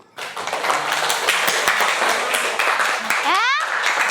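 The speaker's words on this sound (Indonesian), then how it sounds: "untuk itu tepuk tangan dulu" Students in a classroom clap for group 3 after its presentation, a brisk, continuous patter of hands mixed with chattering voices and a short rising squeal near the end.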